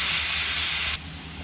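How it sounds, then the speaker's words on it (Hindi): Steam hisses steadily from a pot of dal and chicken sobat with potatoes, a loud, broad rush that drops to a lower, steadier hiss about two-thirds of the way through. "तो इसका ये भाप निकालता है, थोड़ा देर सीटी भी लगाया था"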